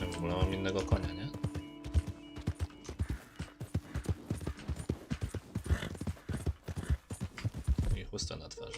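Horse hooves clip-clop in a steady trotting rhythm in Red Dead Redemption 2, close and clear, while someone talks over the first part.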